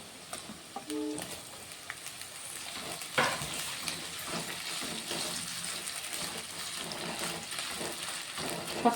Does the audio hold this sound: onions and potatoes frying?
yes